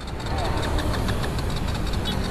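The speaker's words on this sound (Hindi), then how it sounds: "अभी देखो, ये देखो स्टार्टर मार रहा हूँ बंद हो जा रही है" KTM Duke 200 BS6 motorcycle out of petrol, its starter cranking as the engine sputters and dies, a steady loud mechanical churn lasting a couple of seconds.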